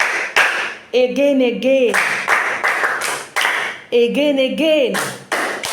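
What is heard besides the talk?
clapping hands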